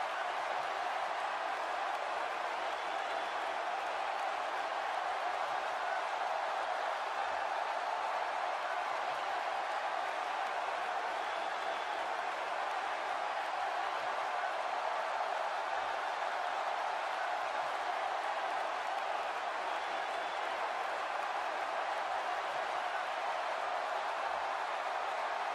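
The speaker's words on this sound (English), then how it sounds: "This Los Angeles crowd hasn't sat down since the night started." An arena crowd in a WWE video game, set in Los Angeles, roars and cheers in a steady, dense wash of noise that holds constant and fairly distant throughout.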